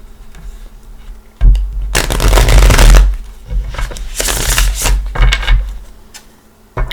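Tarot cards riffled and shuffled in two loud, fluttering bursts, with softer handling clicks and taps between them, close up.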